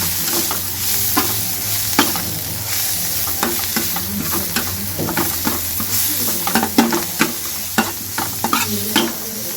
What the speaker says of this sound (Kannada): ಒಂಚೂರು ಫ್ರೈ ಮಾಡ್ತಾ ಇದೆ